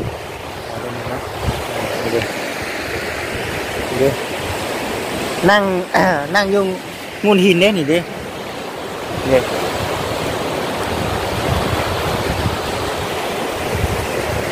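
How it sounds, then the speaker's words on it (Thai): A stream of water rushes steadily in an outdoor setting, a constant broadband wash that runs throughout, while someone talks briefly over it in the middle. "เสียงน้ําไหลมันก็จะติด"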